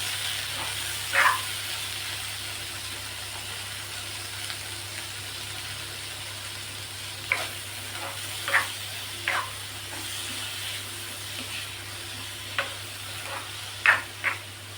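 Cherry tomatoes and green chillies roasting in a pan, a faint low sizzle under a steady hum, broken by occasional soft pops and scraping taps, with no speech.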